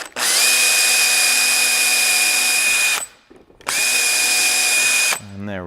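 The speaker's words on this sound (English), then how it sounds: "And drill in, I don't know, about half the distance of the nail, not quite a half an inch." A power drill bores a small pilot hole in wood in two loud, steady bursts separated by a short pause, then whirs down at the end; no one speaks.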